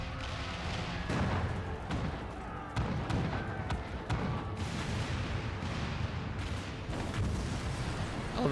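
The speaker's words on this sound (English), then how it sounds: "All cannons resume firing!" Cannons firing in Final Fantasy XIV Stormblood during the rise of Ala Mhigo battle, a dense stretch of dull booms and rumbling impacts layered over battle noise and music, with voices speaking faintly beneath.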